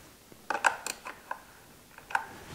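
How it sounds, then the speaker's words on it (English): A torque screw on the third brake light and backup camera cover of a 2018-or-newer Jeep Wrangler JL is turned to its lock position, giving a few quiet clicks and ratcheting ticks, close and isolated. "now we actually gotta rotate that torque screw from the unlock position to the lock position"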